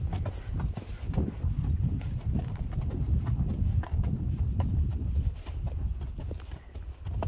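A horse walks along a rough, technical trail under a rider, hooves clopping in a steady uneven rhythm on rock and dirt, loud and close, with faint rustling between steps.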